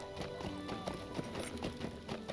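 Horse hooves clip-clop in the video game LOTRO (Lord of the Rings Online), a quiet, steady run of soft rhythmic thuds repeating about every third of a second with no voices.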